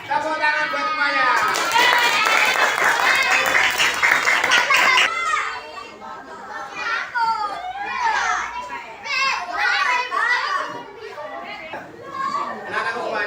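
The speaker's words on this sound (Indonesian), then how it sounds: "tepuk tangan buat semuanya" Schoolchildren in a classroom clap together in a loud burst of applause for a few seconds, followed by excited children's voices and chatter.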